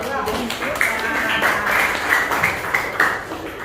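Students in a classroom clap for their classmates in a short, uneven burst of scattered hand claps that comes and goes, with some talking mixed in.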